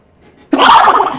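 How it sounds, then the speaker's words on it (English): A single sudden sneeze bursts out after a short near-silent pause, loud and close to the microphone, trailing off slightly at the end. "Oh no, I gotta sneeze."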